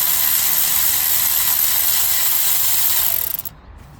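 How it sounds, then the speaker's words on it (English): A side ratchet working loose the alternator belt tensioner on a 2012 Honda Civic gives a steady, close, dense mechanical whir and clicking that runs for about three seconds, then stops abruptly into near silence. "My side ratchet to get it off quickly."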